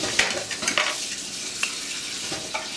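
Hollandaise-style cream sauce cooking in a pan while being stirred, with soft scraping strokes and light sizzle heard alone at close range.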